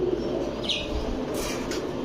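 Fancy pigeons of the Teddy, Chila, Gorra and Giribaz breeds are penned for sale. There is a brief soft cooing with a few light chirps over a low background murmur.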